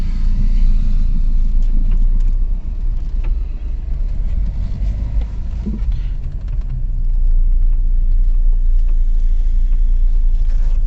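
A car engine rumbles steadily from inside the moving vehicle, a continuous low drone with road noise that dips slightly midway and swells back up, with no talking over it.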